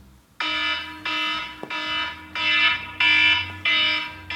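A reminder alarm beeps in a repeating electronic pattern, six bright, loud tones each lasting about half a second with short gaps between them, heard alone and close.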